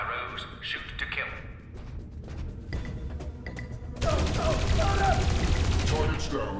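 Gunfire in the Dreamfall Chapters video game: scattered sharp shots ring out under voices, then a dense, loud sustained burst of automatic fire takes over for the last few seconds.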